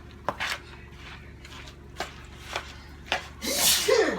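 A single sneeze bursts out near the end in a home kitchen during pasta salad preparation, preceded by soft clicks and taps of mixing.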